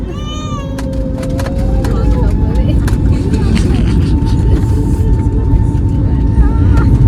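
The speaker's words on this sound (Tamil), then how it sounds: "கிளம்புது ஃப்ளைட்." An airplane's loud, steady engine roar builds and holds as it takes off, with a high whining tone and people talking over it.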